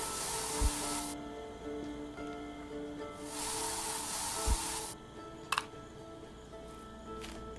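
In the survival game I Am Future, a spray can sprays weed killer in two bursts of airy hissing, each a second or more long, over a low, steady musical backdrop with a few faint clicks.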